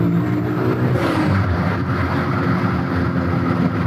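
A VW Golf accelerates hard in second gear with wheels spinning, a loud steady engine roar rising in pitch and holding for several seconds, close and continuous.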